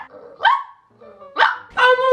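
A woman imitates a dog barking with three short, sharp voiced barks spaced apart, close and loud.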